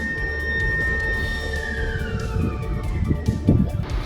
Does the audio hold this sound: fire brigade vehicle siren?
yes